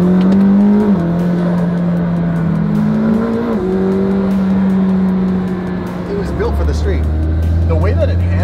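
A McLaren Senna hypercar accelerates hard in third gear, its engine a loud sustained drone rising in pitch with stepped shifts, heard from inside the car while people talk over it.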